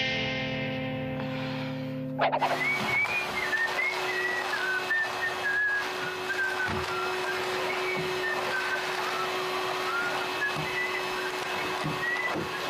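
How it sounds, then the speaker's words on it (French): Someone whistles a wandering melody in a steady stream of notes, with a constant vacuum cleaner drone running underneath after a sudden start. "Je siffle."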